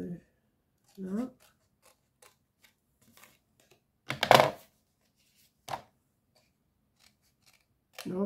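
Scissors snipping a cardboard gift box, a few separate sharp cuts spaced over several seconds in a quiet room, with brief bits of a voice between them.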